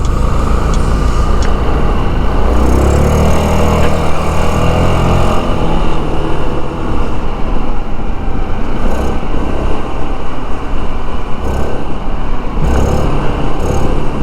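A SYM ADXTG 400 scooter engine pulling hard on a test ride, a loud, continuous droning roar mixed with heavy wind rush that swells steadily as it accelerates, with no talking.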